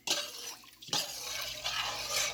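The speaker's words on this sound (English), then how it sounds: "I'm just going to pour that in there. That's my 4 cups of water to my 2 cups of rice" Water pours steadily into a pot holding dry rice, with a continuous splashing rush that briefly drops away and then resumes, close and moderately loud.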